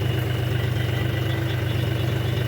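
A tractor engine rated to about 2100 RPM runs at a steady idle, a close, constant low drone with no change in pace and no voices.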